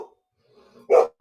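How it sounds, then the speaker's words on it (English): A single dog lets out a couple of short, close barks, one sharp main bark followed by a quick softer yip, in an otherwise quiet room. "Is that your dog?"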